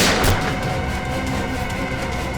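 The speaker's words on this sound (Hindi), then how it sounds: "इस कमरे से गोलियां चलने की आवाज आ रही है।" Gunfire in a room, staged as a sound effect for a crime-investigation TV drama, begins with a loud blast and is followed by a sustained, noisy rumble with no speech over it.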